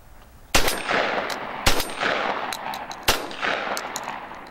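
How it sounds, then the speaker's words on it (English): Three loud, sharp blasts from a Browning A5 semi-automatic shotgun firing light Winchester loads, each close report followed by a long rolling echo, spaced about a second and a half apart outdoors. "Let's just see if it'll shoot it."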